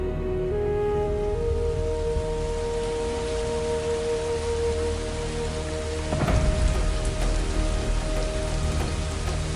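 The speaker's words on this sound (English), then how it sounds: "When the tropical rain pours down, water rises and sweeps everything away." Tropical rain pours down in a dense, steady hiss, with a sharper surge and low rumble partway through, heard over sustained tonal sounds.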